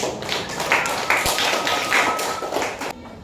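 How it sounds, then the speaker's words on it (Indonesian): Classroom of students clapping after a presentation, a brisk burst of many hands close by, uneven and lively, thinning out toward the end. "Tepuk tangan dulu"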